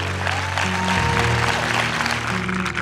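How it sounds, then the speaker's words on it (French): Steady, loud applause from a group gathered at a closing celebration of a women's rally trip in Morocco, dense clapping filling the whole moment without pause. "en tout cas nous on vous applaudit, vous pouvez vous applaudir."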